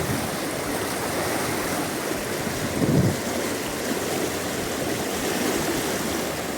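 The fast-flowing, risen Krishna River rushes in a steady, loud roar with no voices, a constant churning wash throughout.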